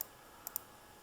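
A computer mouse gives two quick, faint clicks in close succession against a quiet background hum.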